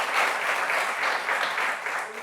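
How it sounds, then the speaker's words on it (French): Audience applause during a television show for a violinist, a dense even clatter of many hands clapping, steady and close for a couple of seconds with no voice over it. "On va l'applaudir bien fort aussi"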